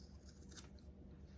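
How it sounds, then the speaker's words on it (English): Scissors snip the corners of a sewn fabric coaster, a single faint, soft cut close by in a quiet room. "I'm gonna take my scissors and I'm going to cut the corners"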